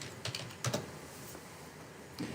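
Fingers type a library card number on a computer keyboard, a few quiet, close key taps scattered over a low steady hum, with no voices.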